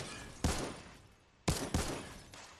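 Three gunshots in Fortnite Creative mode, each a sharp crack with a decaying tail, the first standing alone and the last two close together, heard at moderate distance with no talking.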